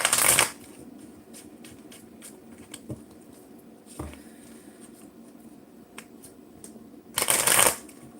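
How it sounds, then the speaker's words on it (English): A deck of tarot cards is shuffled in quick riffling bursts at the start and end, with softer card taps and slides between them, close and alone in a quiet room. "I'm shuffling the hell out of this deck"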